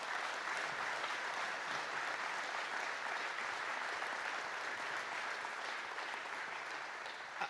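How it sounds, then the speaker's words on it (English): Steady, dense audience applause fills a room at a Milwaukee Bucks ownership announcement, sustained at even loudness for the whole stretch with no voices over it. "I think that deserves a big round of applause"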